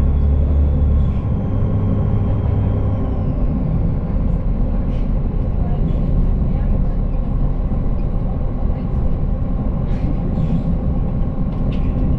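A narrow gauge train pulls away from Putbus station on the Bergen–Lauterbach line, heard from on board as a loud, steady low rumble of wheels and running gear with faint squeals, and someone talking over it.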